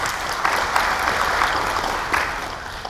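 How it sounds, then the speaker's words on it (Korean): Applause from the audience at a citizens' public debate welcomes a presenter, a dense, even clatter of many hands lasting about three seconds with a few sharper claps standing out. "큰 박수로 환영해 주시기 바랍니다"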